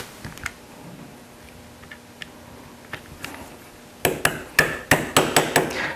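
A roll pin being reinstalled into a RAM sear housing, heard as faint scattered ticks for four seconds, then a quick run of six or seven sharp metallic taps, close and loud.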